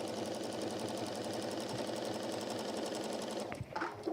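A sewing machine stitches straps onto a lined deluxe apron with a fast, even mechanical whir. It runs loud and steady, then stops near the end, leaving a few soft handling clicks.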